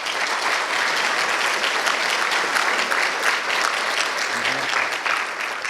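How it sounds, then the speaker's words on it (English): An audience at a school fundraising breakfast gives the mayor a round of applause, a dense, loud and sustained clapping that carries evenly through nearly six seconds with no voices breaking in. "Can we give a round of applause to our Mayor Eric Pappenfuse?"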